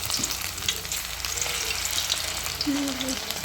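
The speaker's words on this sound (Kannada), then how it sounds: "ಚೆನ್ನಾಗಿ ಹಿಂಗೆ ಫ್ರೈ ಮಾಡ್ಕೋಬೇಕು" Leftover-rice bonda deep frying in hot oil, a steady dense sizzle and crackle that holds for the whole stretch, with the occasional faint clink of stirring and no one talking.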